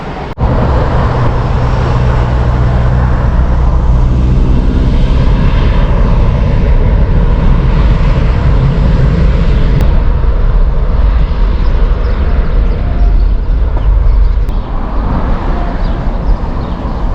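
A fixed-wing airplane passes close by near the Zante airport runway, its engine roar loud and steady throughout, swelling broadband and rumbling low as it goes by.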